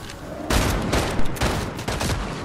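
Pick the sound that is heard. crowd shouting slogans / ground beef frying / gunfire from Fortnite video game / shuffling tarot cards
gunfire from Fortnite video game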